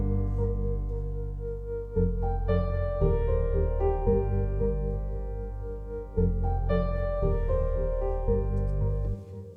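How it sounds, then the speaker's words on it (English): Synthesizer pads and a piano play together in a singer-songwriter arrangement, sustained chords swelling under a repeating piano figure, loud and close, with a couple of chord changes and no voices. "So together the synths and the piano sound a bit like this."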